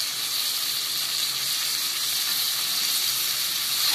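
Grated coconut sautéing in a pan for Tamil mutton kuzhambu and varuval, giving a steady, bright frying sizzle that holds evenly throughout, close and alone with no voices.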